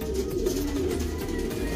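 Pigeons in a loft coo in low, steady, throaty murmurs, close and continuous, with no talking.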